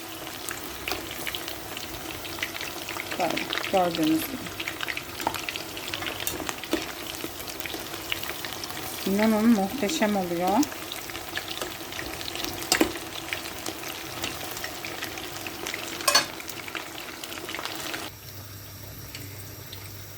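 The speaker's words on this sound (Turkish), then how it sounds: "Böyle bu şekilde nar gibi olana kadar kızartıyoruz arkadaşlar" Steady crackling sizzle of chicken deep frying in hot oil throughout, with brief stirring clatter and a few spoken words over it.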